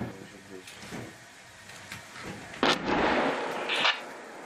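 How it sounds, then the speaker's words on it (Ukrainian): Enemy artillery fire near the frontline at Pisky in wartime Ukraine, with a couple of sharp, heavy booms and a rumbling tail, heard amid a low background hum. "Ворожа артилерія не замикає ані вдень, ані вночі."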